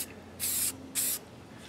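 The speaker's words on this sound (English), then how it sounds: "When I'm spraying armies, I usually do the rattle can because it just is so much quicker than airbrushing it." A rattle can of spray paint priming miniatures, two short close hissing bursts of about a third of a second each, separated by a brief pause.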